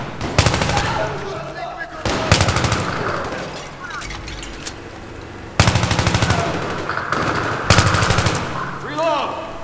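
Automatic gunfire in the video game Battlefield 3, several loud rapid bursts separated by short pauses, with softer game sounds in between.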